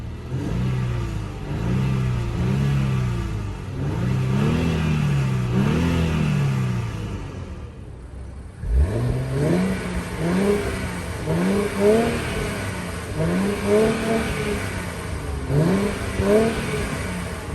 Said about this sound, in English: let's go ahead and give it a couple revs.